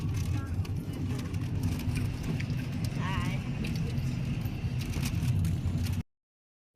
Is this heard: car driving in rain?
yes